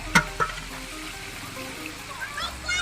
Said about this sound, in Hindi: प्याज इसके अंदर डालिए, अच्छे तरीके से भून लेते हैं इसको ताकि लाल हो जाए